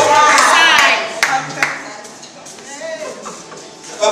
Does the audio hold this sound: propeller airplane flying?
no